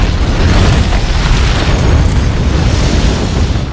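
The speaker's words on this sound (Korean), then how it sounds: "MI6 본부가 폭탄 테러를 당하죠" A bomb explosion tears through MI6 headquarters in a James Bond film, a loud, sustained rumbling blast that roars continuously with no speech over it.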